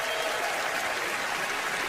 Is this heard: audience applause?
yes